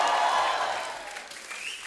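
Audience applause fades steadily as it greets a film director and an actress arriving on stage at a comedy show, a broad, dense clapping wash with no speech.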